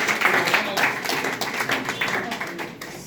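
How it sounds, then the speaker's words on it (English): A short burst of clapping at a Liberian civil servants' gathering on wage increases, scattered hands tapping unevenly for a few seconds against a busy room. "I think it was a practice for the actual round of applause."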